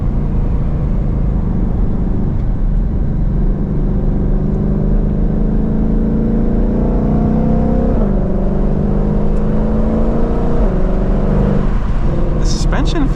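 Engine of a Mustang Shelby GT500 front-engine sports car accelerating, a steady loud drone with rising harmonic sweeps as revs climb through the gears, continuous throughout, with a person talking over it.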